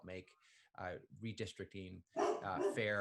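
A dog barks and yips indoors in a room, with short sharp calls mixed in and around a person's steady talking.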